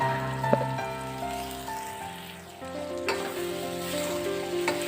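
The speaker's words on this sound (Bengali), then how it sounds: "এবার চানাগুলো দিয়ে ভালো করে কষাতে হবে" Chickpeas frying for mutton chana masala after Kashmiri chilli powder goes in, a steady sizzle with scraping stirs and a sharp clank, close and alone.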